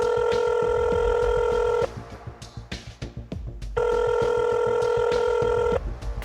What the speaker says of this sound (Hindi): कई दफ़ा कॉल कर रही हूँ, वो नहीं उठा रहे